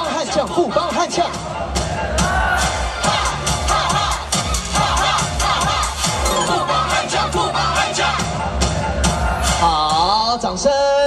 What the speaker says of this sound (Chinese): 董子恩，一起喊出来哦！